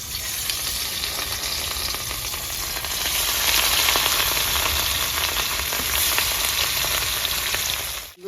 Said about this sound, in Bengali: তো বন্ধুরা মাছ ভাজার জন্য কড়াইটা বসে দিচ্ছি।